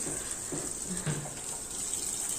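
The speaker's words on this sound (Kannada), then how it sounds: "ಅಮ್ಮ ನೀರು ಹಾಕ್ತಿದ್ದಾರೆ ಬೆಳಿಗ್ಗೆ." Jasmine and other plants on a home terrace get their morning watering, a soft, steady splash and trickle of poured water, faint and continuous, with no voices.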